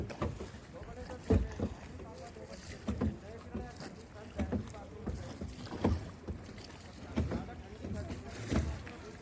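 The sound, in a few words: boat moving on river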